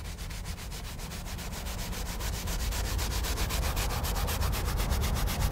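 Leather upholstery scrubbed back and forth with leather cleaner, a steady close rubbing that holds at an even level throughout, with no voices.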